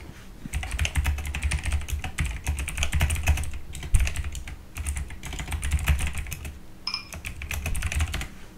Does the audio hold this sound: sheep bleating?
no